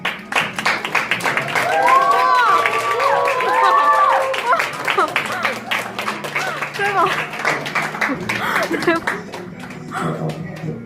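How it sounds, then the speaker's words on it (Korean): Wedding guests applaud a male singer's entrance at a lavish wedding ceremony, with steady clapping and crowd noise filling the room for about ten seconds over background music and some voices. "모두 큰 박수로 맞아주시기 바랍니다"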